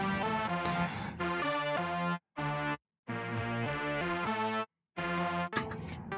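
Distorted electric guitar melody played through an Eventide H90 phaser program with a Boss DS-1 distortion, loud and upfront in sustained phrases broken by two short silent gaps, with no voices.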